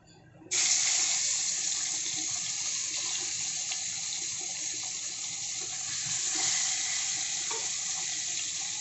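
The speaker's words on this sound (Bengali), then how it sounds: "মাছ আমি বেশ ভালো করে ভেজে নিয়েছি, মাছ ভাজা আমার হয়ে গেছে" Tilapia fish frying in a pan, a steady loud bright hiss and sizzle starting abruptly after a brief quiet moment and continuing evenly throughout, with faint clinks underneath.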